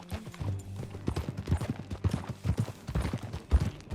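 Horse hooves clip-clopping in the Red Dead Redemption II video game, a steady walking rhythm of close, fairly loud hoof strikes with a low hum underneath.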